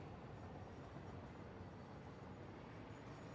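A train rolls past in a factory-building video game, a faint, steady low rumble of wheels and engine with no break in level and no talking over it.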